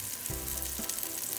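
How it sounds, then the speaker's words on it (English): Food sizzles and fries steadily in a pan over medium to high heat, with bursts of spitting oil as pieces of hearts of palm and potato patties go in. Close and continuous, with no voices. "we're just gonna cook these over medium to high heat"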